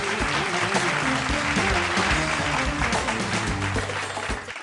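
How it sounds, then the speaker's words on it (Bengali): A game show studio audience on Banglar Sera Paribar breaks into loud, sustained applause, a dense wash of clapping that holds steady before easing slightly at the end, with music playing along beneath it. "জোরে একটা হাততালি"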